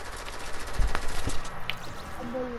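Gunfire in a multiplayer shooter video game: a few sharp, separated shots ring out over a low background, with no talking.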